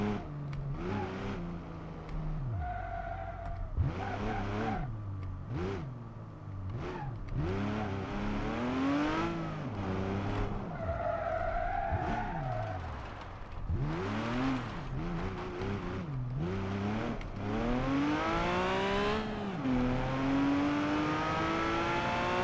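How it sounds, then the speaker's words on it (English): A Porsche 911 GT3 in BeamNG.drive revs hard through repeated gear changes, its engine pitch climbing and dropping in sweeping arcs, with tire squeal during a skid and spin, loud and continuous. "Next car is a Porsche 911 GT3."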